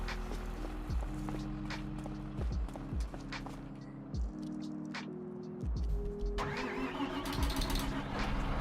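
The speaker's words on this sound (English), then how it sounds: "Tractors." A tractor engine starting in the Farming Simulator 25 video game: a cranking catch settles into a steady, humming idle drone, punctuated by several clunks and hoof-like clops, with a brighter hiss entering near the end and no voices.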